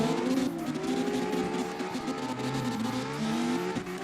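Drift car engine in the CarX Drift Racing video game, a deep, elephant-like drone with steady, sustained loud revving and shifting pitch, accompanied by tire squeal as it slides through a drift, no talk.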